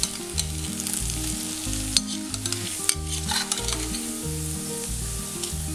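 Onion pakoda frying in hot oil sizzles continuously as a utensil stirs through the pieces with light scrapes and taps, with a steady rhythmic tone running underneath, no voices.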